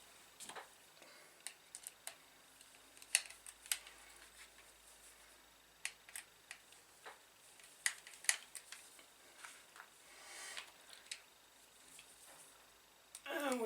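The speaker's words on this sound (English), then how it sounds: "we just carry on until all 4 are screwed in" Small screws driven into the mount of a Tamiya DT-02 Holiday Buggy model kit, heard as faint, close, irregular clicks and ticks from a hand screwdriver in a quiet room, without speech.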